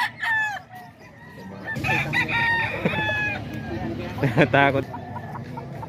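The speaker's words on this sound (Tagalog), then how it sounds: "Marami ring manok dito." Chickens and roosters at a poultry seller in Baliwag cluck and crow nearby, with one clear rooster crow near the start, mixed with someone talking over them.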